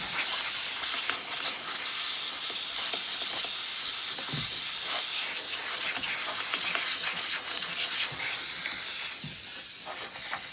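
Compressed air blasting over an Echo SRM22 string trimmer to clean it, a loud, steady hiss that runs almost unbroken and eases slightly near the end, with no talking.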